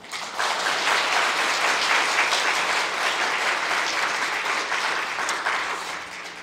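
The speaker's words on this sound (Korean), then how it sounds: "우리 형제 자매들 격려 박수하겠습니다" A church congregation clapping steadily, dense and sustained applause that holds for several seconds before tapering slightly.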